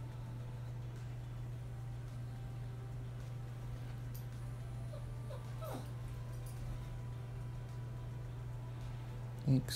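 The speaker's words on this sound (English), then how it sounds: "Excuse my dog in the background." A dog whimpers and yips faintly in the background of a home kitchen during cake baking, brief thin cries over a steady low electrical hum, with a small knock at the end.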